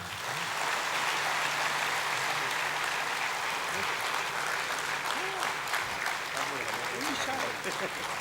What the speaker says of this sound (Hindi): तालियां तो बनती हैं।